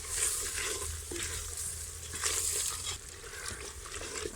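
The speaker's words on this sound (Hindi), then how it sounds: "लहसुन और अदरक का पेस्ट मिक्सिंग करते हैं और इसकी भुनाई करते हैं" Garlic and ginger paste stirred and frying in a pot for chicken sobat, a steady close sizzle with soft scraping stirs throughout, moderately loud with no talking.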